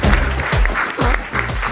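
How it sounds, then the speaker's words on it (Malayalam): Audience applause at a Malayalam standup comedy show, a dense burst of clapping filling the whole moment, fairly loud and steady with no voices over it. "കൈയടിക്ക്."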